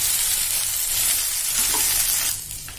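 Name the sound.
okra (bhindi) sizzling while frying in a pan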